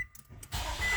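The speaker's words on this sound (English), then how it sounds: "It's definitely cranking the engine over faster." A Nissan Altima 2.5L engine with almost 200,000 miles cranks on a new starter, a fast rhythmic churning that swells abruptly out of faint clicks and then holds loud and steady.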